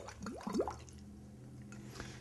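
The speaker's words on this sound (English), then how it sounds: "you can blow through the straw and make bubbles" Bubbles blown through a drinking straw into a glass of milk, a short burst of gurgling bubbling near the start, then quiet steady background.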